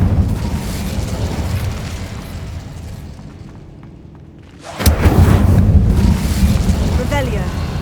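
A fire spell cast in the video game Hogwarts Legacy bursts out as a sudden loud whooshing blast, leading into a dense, roaring rumble over a background of ongoing game ambience.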